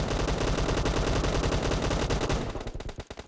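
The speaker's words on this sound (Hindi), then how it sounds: "अच्छा यहाँ से फायरिंग की आवाज आ रही है।" Rapid automatic gunfire in the PUBG Mobile battle royale game, a dense sustained burst of shots that thins into separate cracks near the end, loud and close with no talking.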